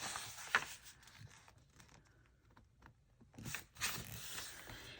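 Sheets of paper for a handmade journal are folded in half, giving quiet, crisp rustles and creasing swipes in short bursts separated by near-silence.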